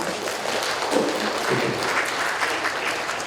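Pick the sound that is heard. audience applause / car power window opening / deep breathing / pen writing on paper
audience applause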